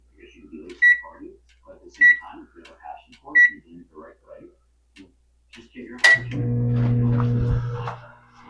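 A microwave oven hums steadily for a couple of seconds after three sharp beeps and some quiet clatter, its drone loud and close.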